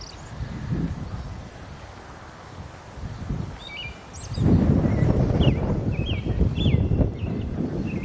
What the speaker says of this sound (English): Wind's coming up a little bit.